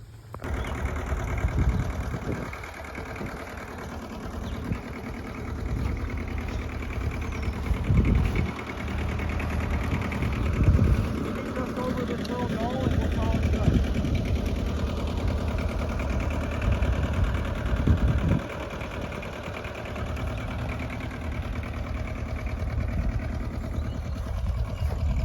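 A Ford tractor's engine runs steadily with a low, rough rumble for a long stretch, close by and fairly loud, with occasional knocks and surges in the idle.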